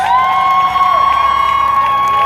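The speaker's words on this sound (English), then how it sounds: "Give her a round of applause" A crowd cheers and applauds a woman at a live event, a loud continuous roar of voices with whoops and a sustained high tone running through it.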